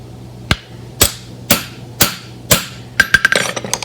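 A hammer drives nails into a horse's deep-seated bar shoe: five sharp, ringing metallic strikes spaced evenly about half a second apart, then a quicker flurry of lighter taps at the end, close and loud.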